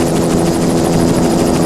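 Steady, loud helicopter rotor chop filling the whole stretch as the aircraft films a triathlon race from above, continuous and close, with no voices.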